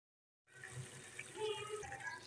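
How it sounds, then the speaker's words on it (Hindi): Water poured from a vessel into a pan of frying chicken and spices for palak chicken: a steady, moderately loud splashing pour that begins abruptly and continues throughout. "मसाले डाल के मैं इसमें थोड़ा सा पानी डालूंगी ताकि मसाले जले ना"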